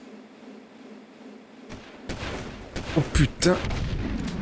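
Gunfire from an enemy shooting down from a high position in the video game Jak II, heard as several sharp, loud bursts after a quiet start, with a voice exclaiming over them.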